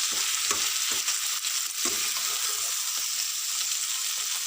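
Mushrooms fry in a pan, a loud continuous sizzle up close with several scraping stirs of a spatula breaking through, and no talk.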